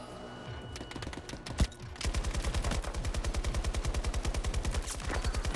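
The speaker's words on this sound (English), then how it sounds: "Who's shooting?" Gunfire rings out in the video game Battlefield 2042: a few scattered shots, then sustained rapid automatic fire in a fast, steady rhythm, loud and close.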